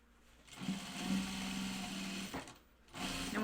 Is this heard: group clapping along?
no